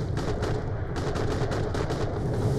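Steady automatic gunfire in Borderlands: The Pre-Sequel, aimed at Kragans, with rapid repeated shots over a constant roar of background noise, fairly close and dense.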